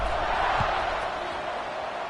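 Football stadium crowd at an ECU versus JMU game just before kickoff, a loud continuous roar of massed voices and cheering with a dull thump partway through.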